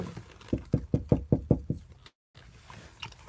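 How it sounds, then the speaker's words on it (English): Knuckles rap on a window in a quick run of about seven sharp, evenly spaced knocks, close and loud, followed by a brief cutout and quiet background. "Come knocking on the window like,"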